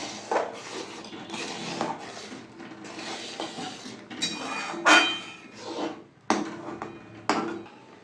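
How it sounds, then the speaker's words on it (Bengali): A spoon scraping and knocking in a pot while masoor dal with turmeric and salt is stirred, in a string of close clinks and rubbing scrapes with short pauses between strokes. "নাড়িয়ে নেবো।"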